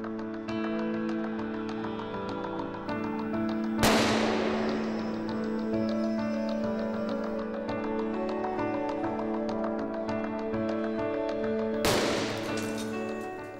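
Two sharp gunshots strike the roof of an armored VW Touareg at a 90-degree angle, each a sudden loud crack about eight seconds apart over a steady musical backdrop.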